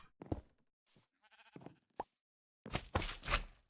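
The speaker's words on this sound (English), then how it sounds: "Mr. Sheep, you are getting in the way." Minecraft sheep bleating in the video game: several short, close bleats and clicks with gaps of silence, followed by a louder burst of game noise; no one talks.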